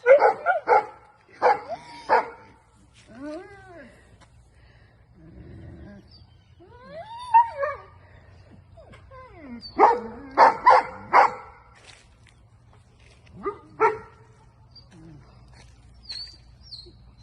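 A dog barks in short bursts of several yaps, with whines and vocal yelps between, over a low steady hum in the background.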